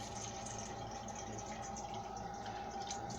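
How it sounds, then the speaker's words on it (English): Cold water pours steadily into a pot to cool a hot cake mixture, a continuous close gushing and trickling with no talk over it. "I just add a little cold water and put it in to cool very fast and keep stirring"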